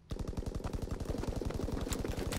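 Rapid, evenly spaced automatic gunfire from a World War II video game weapon, a steady mechanical rhythm of roughly a dozen shots a second, fairly quiet, with no talking.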